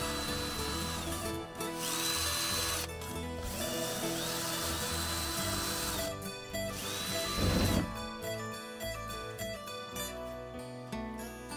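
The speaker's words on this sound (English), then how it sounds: "The challenge was to remove the rivets that fastened the original hinge to the bench, and this proved rather difficult" Rivets being removed from the hinge of a motorhome bench make a loud, harsh power-tool whine in long continuous bursts with short pauses, and a brief clattering knock comes near the end.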